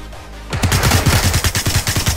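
Rapid burst of gunfire in a shooter video game, sharp repeated shots spaced evenly over about a second and a half, loud and close after a brief quiet start, with no talking.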